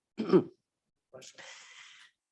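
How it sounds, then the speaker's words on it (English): A single harsh throat-clearing cough from someone with pneumonia, then a pause and a raspy, strained breathy exhale, close and otherwise quiet. "So just had a coughing attack"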